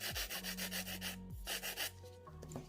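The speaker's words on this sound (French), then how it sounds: "Et je lime." A nail file rasps across a nail on a practice hand in a quick series of about ten close, soft strokes, followed by a few faint scrapes, with no voices.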